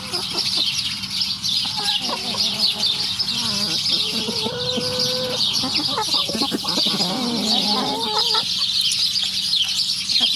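Young pullets cluck and chatter steadily at close range in a backyard flock, with overlapping calls and occasional brief squawks across the whole stretch.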